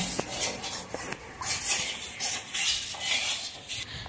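A spoon scrapes and clinks around a pot while a milk mixture with sugar and salt is stirred, giving repeated close metallic scrapes and soft swishes at a steady pace with no talking.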